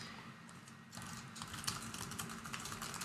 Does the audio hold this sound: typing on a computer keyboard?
yes